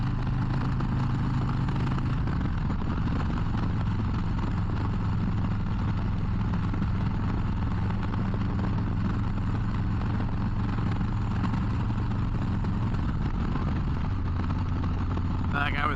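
A Harley-Davidson Low Rider ST motorcycle cruising on road 565 south, with a deep steady engine rumble and wind noise running under a rider's continuous talk.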